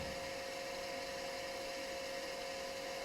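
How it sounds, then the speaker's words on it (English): Spindle gouge hollowing a small wooden birdhouse ornament on a lathe, giving a faint, steady whirring hum with a thin high tonal whine throughout, no talking. "When you're hollowing with a spindle gouge like this"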